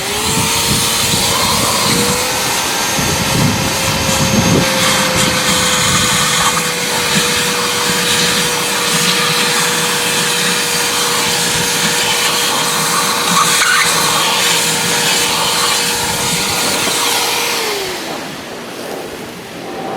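A pool vacuum runs continuously with a steady whining hum and broad rushing noise while the skimmers are opened during a pool opening, fading slightly at the end; no one speaks.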